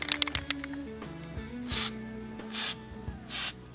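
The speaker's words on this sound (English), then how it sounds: "You gotta spray about a foot and a half away when you do it" Three short hissing bursts from a spray can puff out at regular intervals over quiet background rattling and faint tapping.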